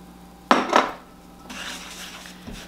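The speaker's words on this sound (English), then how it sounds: "And you just kind of stir it all up together." Pie batter of sugar, cinnamon, salt and a beaten egg stirred in a bowl, two sharp utensil scrapes against the bowl followed by a softer, continuous mixing rustle, close and alone.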